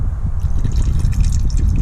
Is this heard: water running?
yes